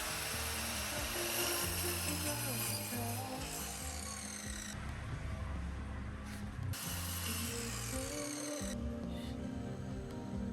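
A saw blade cuts through wood while a small multi-shelf display stand for mini bonsai pots is built: continuous rough rasping and grinding with rhythmic strokes, close and fairly loud.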